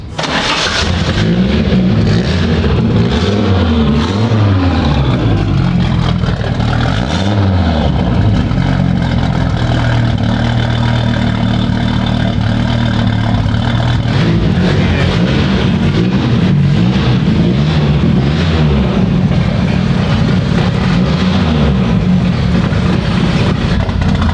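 An Audi Quattro car engine runs steadily throughout, a low rumbling idle with periodic surges as it revs up and settles back down.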